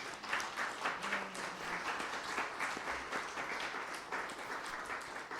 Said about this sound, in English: We should clap that.